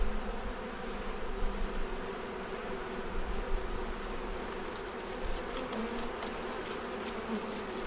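Honey bees buzz around hive frames in a dense, continuous hum, many insects droning together close by with no voices.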